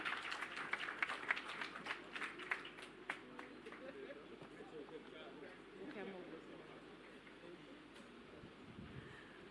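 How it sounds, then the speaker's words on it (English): A round of applause fills the room after a commercial contract signing ceremony, sharp scattered claps loudest at first then thinning into crowd murmur and quieter clapping. "Ladies and gentlemen, please give a round of applause."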